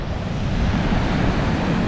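Stormy sea surf at Bugaz in Crimea rolls in under strong wind, a dense, continuous roar of crashing waves and wind buffeting the microphone, loud and steady with no voices.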